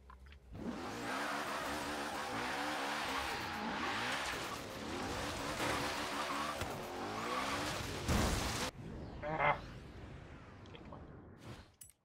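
A car in the racing video game Forza Horizon 3 drives at speed, its engine droning and revving steadily while the tires skid and squeal, ending in a brief burst of scraping noise, with no talking.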